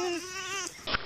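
A goat gives one loud, wavering bleat close by, lasting about two-thirds of a second, then a short breathy noise.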